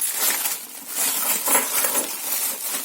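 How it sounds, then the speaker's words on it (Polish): Silver PRL-era junk silver coins clinking and rattling together as a package is unboxed, a continuous run of close, bright metallic chinks with no talking. "Wyłaniają nam się piękne monetki."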